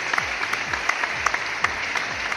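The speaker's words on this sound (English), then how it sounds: "ladies and gentlemen, a round of applause as he comes up on stage to join us for our first panel discussion" Loud, sustained audience applause in a conference hall as a panelist walks on stage for a telecom panel discussion, a continuous dense clapping with a few sharper accents throughout.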